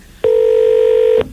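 A single telephone dialing tone, one steady loud beep of about a second that starts and stops abruptly, close and alone.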